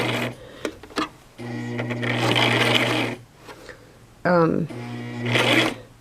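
A Brother LX 3817 sewing machine stitches through thick, extra layers of fabric with a long stitch, running in two sustained bursts of steady mechanical whirring broken by short pauses and a few clicks, close by with no talk.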